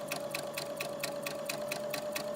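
A sewing machine stitches stretched fabric for a knotted headband, running steadily with a rapid even rhythm of needle strokes close by and no talk.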